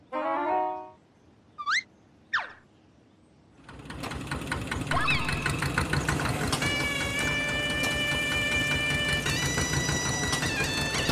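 A tractor engine starts up after a few brief voice-like sounds and then chugs steadily and loudly at close range, with music playing over it.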